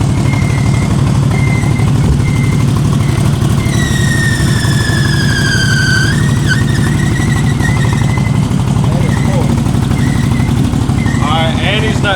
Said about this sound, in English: that's the bearing in the primary clutch, and it will not shift until you turn it off